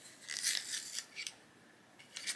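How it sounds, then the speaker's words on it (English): A coloured pencil is twisted in a small hand sharpener, giving a few brief, quiet, scratchy shaving bursts close by, with short pauses between them. "Let's use this sharpener."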